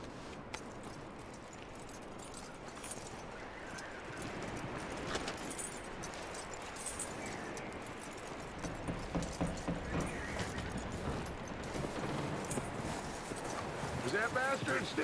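Horse hooves clip-clopping at a steady walking pace in Red Dead Redemption 2, fairly faint under game ambience with occasional mechanical clicks, while a voice talks over parts of it.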